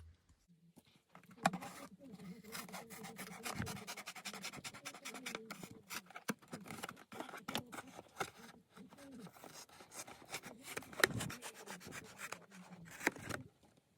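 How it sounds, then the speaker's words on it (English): Cardboard being cut to make a flap for a homemade card deck box: steady scraping and rasping strokes with irregular crackles, close and fairly quiet, continuing for several seconds. "Now what you're going to want to do is cut from the top down to that line on both sides."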